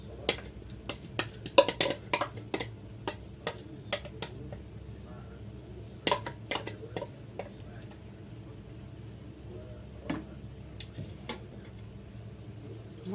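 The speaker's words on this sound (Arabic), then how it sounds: "نحط البصل، حطيناه كده، نقلب بقى فيه كده" Onions fry in a pan with a low sizzle as a utensil stirs them, producing a run of sharp metallic clinks and scrapes, busiest early and sparser later.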